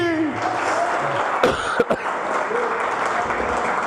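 A church congregation applauds at a night service, a steady wash of clapping with a few sharp louder claps and brief vocal sounds mixed in.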